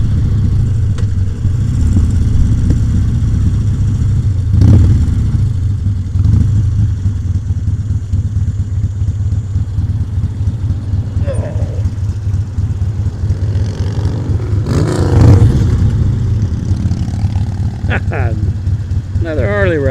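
A Harley-Davidson motorcycle at a stoplight on an evening ride, low steady engine rumble with a couple of throttle blips, heard close, while someone talks over it.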